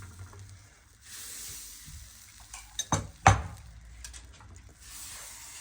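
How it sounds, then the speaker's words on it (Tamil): Appam batter hitting a hot pan and being swirled around it, with a couple of sharp hissing sizzles in the middle, metallic scrapes and soft clatter around them, close and fairly quiet. "இன்னும் ஒரு பாலப்பம் ஊற்றி காட்டுறேன்னு பாருங்கள்"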